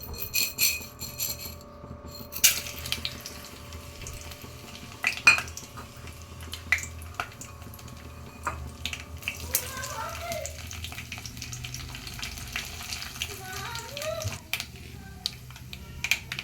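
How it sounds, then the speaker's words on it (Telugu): Tempering spices dropped into hot oil in a home kitchen for a toor dal, cabbage and tomato curry, giving a soft continuous sizzle with scattered clinks of utensils and pan. "పోపు దినుసులు వేస్తున్నాను"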